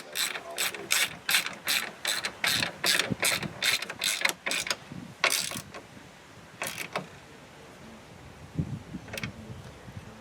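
A hand ratchet clicks in quick bursts while fastening a catch can bracket on a 2014 Ford F150 EcoBoost. It starts as a regular series of sharp, close clicks, then gives a few scattered strokes amid quiet shop noise.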